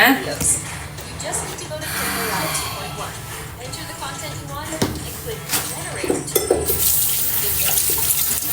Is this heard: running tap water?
yes